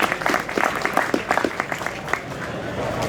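An audience applauds a panel at a conference, steady clapping from a crowd that fades out over a few seconds, with a voice briefly heard over it.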